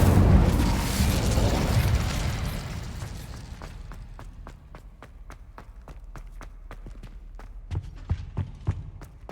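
An Incendio fire spell bursting in the Hogwarts Legacy video game, heard as a loud, roaring whoosh that fades into a steady crackle, followed by a rapid run of sharp, evenly spaced clicks or footsteps.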